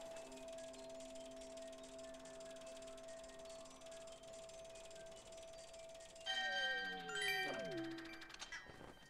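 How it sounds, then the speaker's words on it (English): A bell is struck in The Legend of Zelda: Skyward Sword, a clear ringing chime whose tones sustain and slowly fade, then a brighter cluster of bell tones rings out and falls away near the end. "I can, however, ring the bell."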